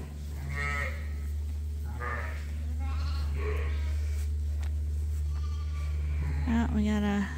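Several sheep bleat with moo-like calls on a farm during lambing, over a steady low hum, repeated at intervals, some near and some farther off, with brief talk.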